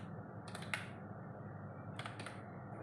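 Typing text on a computer keyboard, two short bursts of quick close key clicks separated by a pause, faint over a steady low hum.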